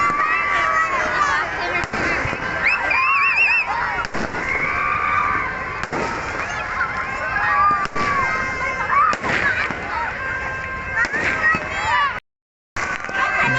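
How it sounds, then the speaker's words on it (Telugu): Firecrackers burst among a large New Year crowd outside an assembly building, sharp cracks scattered through a dense roar of cheering and shouting voices, with a brief dropout near the end. "ఇక క్రాకర్స్ కూడా పేలుతూ ఉన్నాయి"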